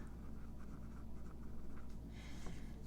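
A pen coloring in paper budgeting envelopes, faint steady scratching strokes close by over a low background hum, with no speech.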